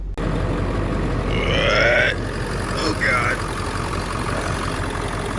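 A diesel pickup truck engine with nearly 500,000 miles idles steadily in its open engine bay, a constant low rumble running throughout while a voice briefly exclaims over it.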